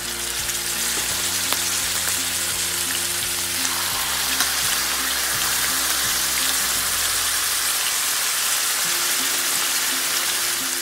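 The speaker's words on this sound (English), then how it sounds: "what I'm going to do is I'm going to put my steak in now. So on high heat" Skirt steak searing on high heat in melted butter and olive oil, a loud, dense, continuous sizzle with steady crackle throughout and a low hum under it, with no talk.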